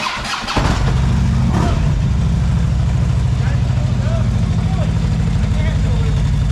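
A Harley-Davidson Ultra Classic motorcycle fitted with an air suspension kit cranks and catches, then settles into a loud, steady, close-up rumble that runs without a break after a short burst of noise at the start.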